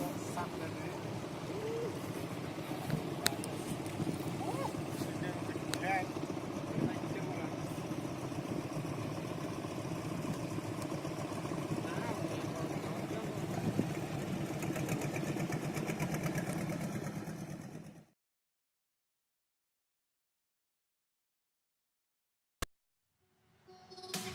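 A fishing boat engine idles at a fishing harbor with a fish auction on the Pancer Puger coast in Jember, Java, a steady low rumble running for about eighteen seconds before cutting to near silence, with crowd voices mixed in.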